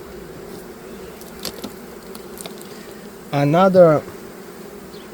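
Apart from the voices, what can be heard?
honey bees buzzing around hive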